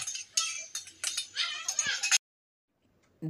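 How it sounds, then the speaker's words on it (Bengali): Sour yogurt whisked in a bowl, heard as a quick run of close metallic clinks and scrapes against the bowl for about two seconds before falling silent. "একটা বাটিতে আমি 100 গ্রাম মতো টক দই নিয়েছি, 100 গ্রামের একটু বেশি টক দই নিয়েছি, ভালো করে ফেটিয়ে নিচ্ছি।"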